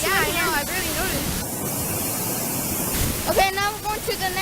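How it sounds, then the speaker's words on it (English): Rushing currents at a waterfall in Chiapas make a steady, dense roar of water that fills the whole clip, with people talking over it at the start and again near the end. "Look at the currents. So we could swim, but it's too dangerous to swim."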